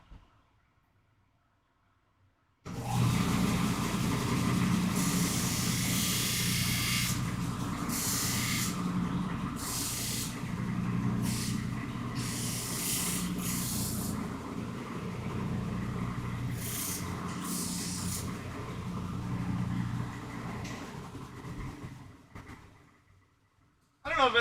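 A disc sander grinds a part, kicking in abruptly after a quiet opening and holding a loud, steady, hissing roar with brief surges of harsher grinding until the end.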